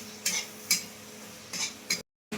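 A metal utensil scrapes and taps against a pan while spices and green chillies fry, giving four distinct stirring strokes over a low sizzling background, followed by a brief silence.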